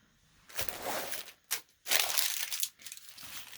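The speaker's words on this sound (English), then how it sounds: "Look at this awesome purple paper plastic bag." A purple paper-plastic bag crinkles close by in two main bursts of crisp, crackling rustle, separated by a short sharp crunch and brief pauses, with no talking.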